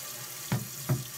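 Water steadily hisses into a toilet tank as a new Fluidmaster universal fill valve refills it, a faint continuous rush broken by two soft low thumps.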